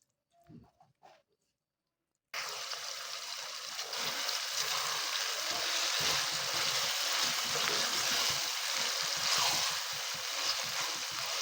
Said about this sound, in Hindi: मसाले को 3-4 मिनट अच्छे से भून लेंगे।